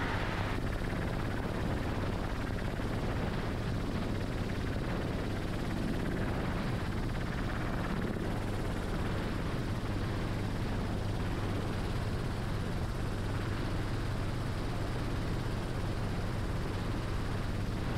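Helicopter flying over the Great Salt Lake, a steady close rotor and engine roar heard from inside the cabin, loud and unbroken throughout with no talk.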